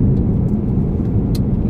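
A car driving through Glasgow, heard as a steady, loud engine and road rumble from inside the vehicle, with faint ticks on top.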